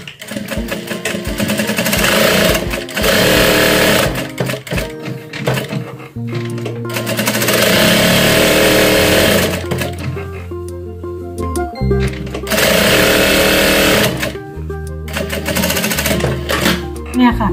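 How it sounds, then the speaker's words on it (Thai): A sewing machine stitches a square fabric bag in bursts of rapid mechanical whirring and clatter, stopping and starting with short pauses between runs, close and loud. "ทีนี้เพื่อนๆก็มาเย็บสี่เหลี่ยมนะคะ"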